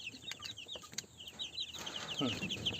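Desi chickens and chicks on a free-range poultry farm, with soft clucking and high chirps scattered close by, fairly quiet.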